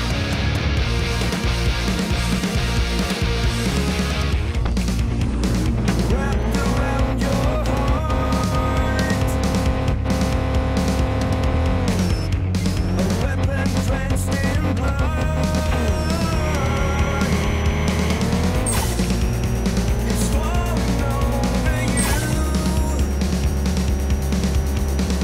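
A car in the Drag Racing: Street Racing mobile game, rear-wheel drive, runs an 804-metre drag race with a loud synthetic engine whine that climbs through repeated gear shifts, each upshift dropping the pitch before it rises again.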